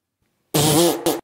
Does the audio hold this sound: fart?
yes